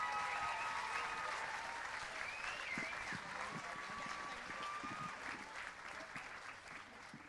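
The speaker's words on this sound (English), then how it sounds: "can we have a massive round of applause and a warm welcome for Kate onto the dance floor." Sustained applause from an audience welcoming a speaker onto the dance floor at a Strictly-style dance event, a dense, steady clatter of many hands that stays loud throughout and eases only slightly toward the end.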